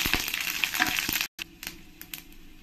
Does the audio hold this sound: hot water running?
no